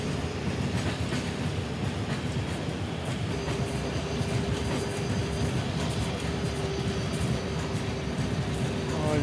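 The Sealdah–New Alipurduar Padatik Express in Trainz Simulator runs steadily at Raninagar Jalpaiguri Junction, its wheels rumbling and clattering over rail joints in a continuous loud roll with a faint high squeal.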